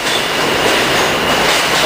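A train passes close by at a station, filling the moment with a loud, steady rumble and rushing rail noise with no pause.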